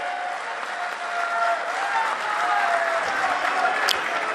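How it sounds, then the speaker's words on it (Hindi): A crowd at a political rally in Rajasthan applauds to welcome a party leader: loud, sustained clapping that fills the space, with a few raised voices and crowd noise mixed in. "जोरदार तालियों से स्वागत करेंगे।"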